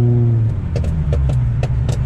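A car running on E85 fuel idles close by with a deep, steady exhaust rumble, broken by a series of about six sharp, crackling pops spaced unevenly across the stretch.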